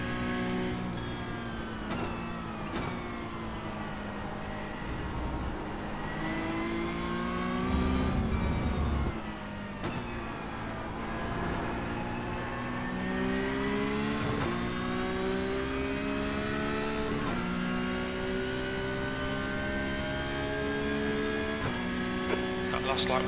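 A Porsche Cup race car in the iRacing video game crossing wet rumble strips, with a steady high engine whine shifting pitch through upshifts and revs, continuous and close, with brief talk over it.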